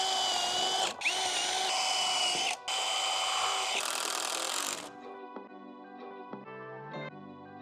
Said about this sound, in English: So now I need to pre-drill and screw the frame together.